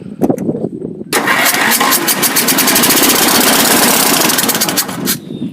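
A Ford LT 10 lawn tractor engine with almost no compression gives a few short, loud cranking bursts, then catches and runs in a steady, close roar until it cuts off near the end. No one speaks.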